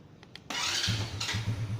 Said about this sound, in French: Et on voit que la moto a démarré toute seule.